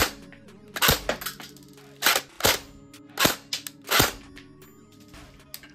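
Sharp cracking shots from an airsoft gun fired during a gearbox FPS test come in irregular close bursts of one or two, each a short loud pop with no talk over them.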